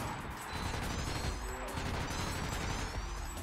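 Steady rapid gunfire in the Ratchet: Deadlocked video game as targets are shot, a continuous dense rattle lasting several seconds with no pauses.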